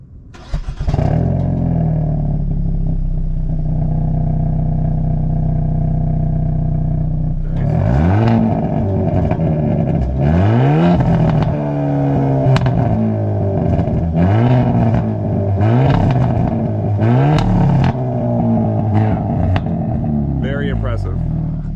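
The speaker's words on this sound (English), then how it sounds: "So this has a really good stock exhaust. It almost sounds aftermarket from the factory." Hyundai Elantra N with its stock exhaust, idling steadily and then revved hard several times in a row, each blip rising and falling with crackling pops and burbles, loud and close.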